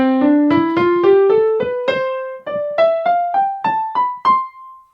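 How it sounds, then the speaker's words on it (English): A single voice sings a rising major scale, eight clear sustained notes stepping steadily upward, close and fairly loud with no accompaniment. "The most common scale in vocal exercises is the major scale, which sounds like this."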